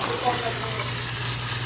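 Food fries in a pan for ginataang langka, a steady, even sizzle that holds throughout over a low hum.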